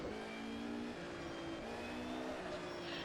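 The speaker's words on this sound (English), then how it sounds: "The engine sound itself is roughly reminiscent of the 190." Mercedes 190 EVO II DTM race car engine in an rFactor 2 mod, a steady droning note with shifting revs and a faint whine, continuous and fairly quiet with no talk.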